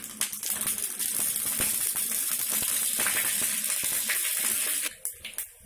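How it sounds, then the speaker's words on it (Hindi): Mustard seeds crackle and sizzle in hot oil while tempering for a South Indian chutney served with dosa and idli, a dense steady frying hiss with scattered pops that thins out near the end. "अब हमारा ऑयल गर्म हो चुका, तो हमारी ये जो बची हुई राई है वो हम इसको डाल देंगे इसमें।"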